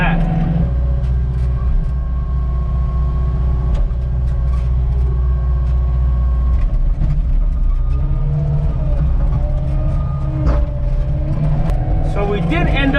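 A skid loader drives back and forth across a farm field during soil prep for planting blueberries, its steady engine rumble continuous and close throughout, with a voice talking over it.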